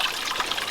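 A garden pond waterfall trickles and splatters steadily, a close, continuous wash of running water with no pauses.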